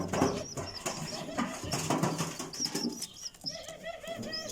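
Pigeons in a loft coo and call close by, with wing flaps and soft rustling under a faint murmur of a voice.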